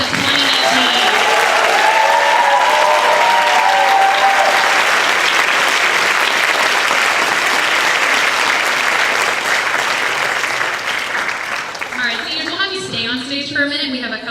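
A large audience claps loudly and steadily for the class of 2019 at a spring orchestra senior concert, dense applause that tapers near the end as a voice begins speaking.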